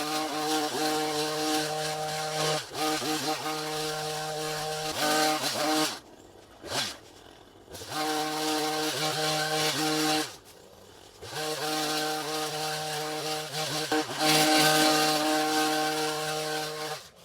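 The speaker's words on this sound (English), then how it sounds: "I'm gonna hedge clip a lot of this down." A gas hedge clipper cutting overgrown brush at a bus stop, its engine droning loudly and steadily in long runs, dropping to idle in two short breaks.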